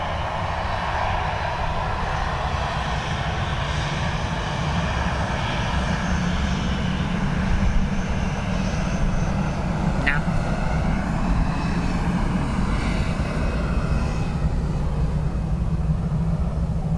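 Airliner taking off from runway 10 right at Dublin Airport, a sustained loud engine roar heard from a distance, steady and broad throughout, with voices talking over it.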